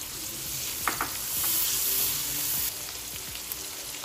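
Ginger-garlic paste and small homegrown tomatoes hit a hot pan and sizzle steadily, with a few close utensil clicks and scrapes against the pan.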